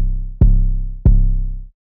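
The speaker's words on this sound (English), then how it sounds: "The 808 will be playing this pattern." An 808 bass plays a simple pattern of punchy deep booms, three hits each decaying quickly, loud and alone with no voices.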